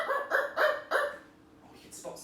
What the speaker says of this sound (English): Whippy started barking